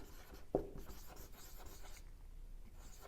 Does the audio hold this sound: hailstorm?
no